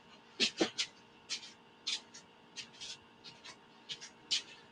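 A pet cat makes a series of short vocal noises, about a dozen brief bursts in uneven rhythm, close and fairly quiet against a low steady hum.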